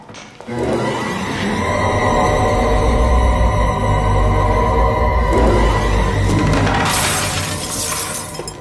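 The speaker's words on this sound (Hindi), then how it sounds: "फोटो टूट गई भगवान की" A framed religious picture slips from someone's hand indoors and crashes, glass shattering loudly at close range with a scatter of breaking pieces against background sound.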